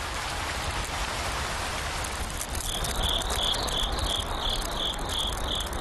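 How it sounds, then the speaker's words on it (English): Heavy rain hisses steadily and densely throughout, loud and close, while a cricket's rhythmic chirping pulses through it in the second half. "The heavy rain lasts all morning, only clearing up around noon."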